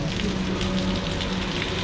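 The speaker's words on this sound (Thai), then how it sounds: "ดูสายฝน" Rain falls steadily on surfaces outdoors, a dense, even patter that continues throughout without pause or voices.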